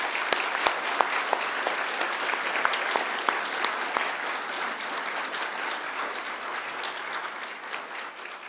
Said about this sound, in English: I'd ask you to give them a round of applause too in thanks for their contribution